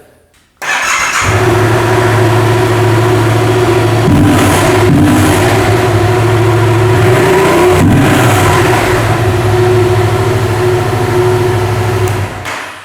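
A Yamaha FZ07 motorcycle engine cranks and catches after a brief silence, then settles into a loud, steady, close idle with a couple of short throttle blips midway before it quiets at the end.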